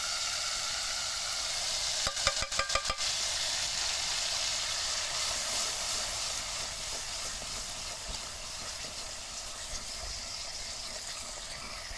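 Ground masala for a spicy liver curry frying in a pan, a steady close hiss and sizzle with a brief clatter of stirring early on, continuing evenly throughout.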